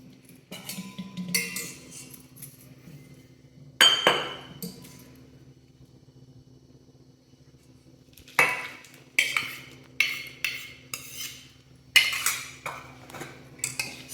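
A spoon works through besan batter in a bowl with water, crushed ginger and two green chillies, turmeric, asafoetida and salt, clinking against the sides in scattered bursts separated by quiet pauses.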